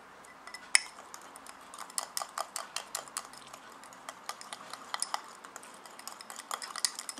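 A homemade aloe vera gel roll-on deodorant mixture is stirred with a utensil, giving a steady run of close, sharp clinks and scrapes against the container. There are no voices.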